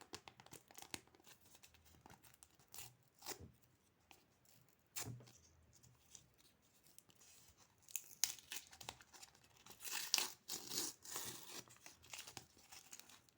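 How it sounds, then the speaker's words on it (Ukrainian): Close, quiet plastic crinkling and a tear, in intermittent bursts that grow louder and busier toward the end. "Пакетик треба прибрати"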